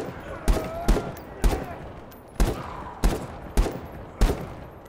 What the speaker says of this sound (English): they just threw random gunshot sounds in